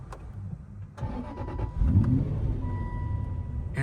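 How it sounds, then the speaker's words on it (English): An Aston Martin V8 Vantage engine cranks with a starter whir, then fires into a loud, close V8 bark that settles into a steady, rumbling idle. "you hit the engine start button"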